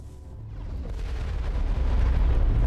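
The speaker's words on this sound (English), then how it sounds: "His only weapon is the bloody rocket launcher." Rocket launcher explosions in the video game Mass Effect roll out as a loud, continuous, rumbling blast that builds and sustains for a few seconds with no speech.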